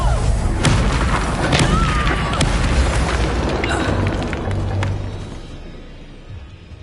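Fiery Confringo blasting spell from Hogwarts Legacy bursting in a loud, rumbling boom with crackling debris, then the roar fades away over several seconds.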